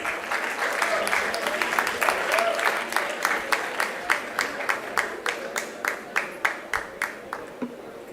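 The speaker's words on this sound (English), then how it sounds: "Can we have a huge round of applause," An audience at a convocation ceremony applauds in a steady wash of clapping that gradually thins into distinct, evenly spaced individual claps toward the end.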